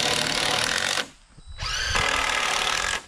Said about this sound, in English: So if you want, put some screws